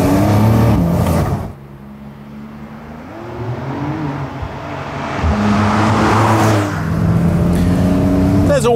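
A Porsche 911 Cabriolet of the 992 generation accelerates in sport mode, its engine note climbing through rising revs with gear shifts. Loud and close, it runs without speech over the top.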